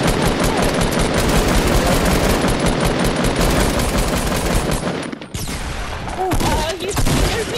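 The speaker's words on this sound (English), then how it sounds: "See, this is why I need my scoped machine gun." Scoped machine gun in the Fortnite video game firing dense sustained bursts for about five seconds, loud and close, then stopping, followed by a brief voice and scattered game sounds.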